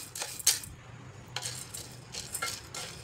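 Chana dal dry-roasting in a pan for thalipeeth bhajani flour: sharp, intermittent clinks and scrapes of a spatula stirring the grains, close and fairly quiet, with no voices.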